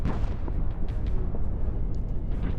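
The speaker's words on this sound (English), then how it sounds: "Cannonballs and gunfire pounded the house" Cannon fire and gunfire pound a house during a battle against Ottoman forces, heard as a dense, continuous low rumble of booms with no clear gaps. The sound is loud and fills the background throughout.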